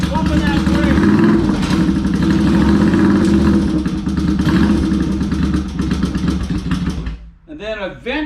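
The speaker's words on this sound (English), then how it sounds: "So you'll want to give it a little gas." A motorcycle engine with stuck clutches runs loudly, throttle blipped in steady surges with a rough mechanical clatter, then drops away near the end, leaving a brief gap before a few short bursts.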